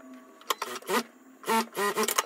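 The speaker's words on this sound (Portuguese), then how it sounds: "E agora, eu vou costurar a cava a outra cava também." A sewing machine stitches the armhole of a linen dress in four short motor bursts with brief pauses between them, close by and clear, with no talk.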